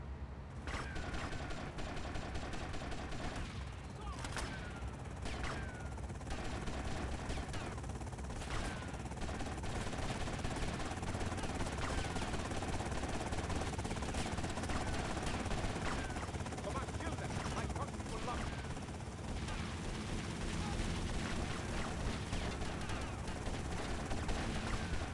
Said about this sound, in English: They've got a helicopter!